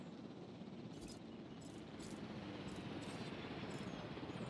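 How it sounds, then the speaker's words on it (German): Helicopter arriving in the park-building game Jurassic World Evolution, heard as a steady broadband rotor and engine rumble that holds constant and fairly quiet throughout, with no talking. "Da kommt der Heli."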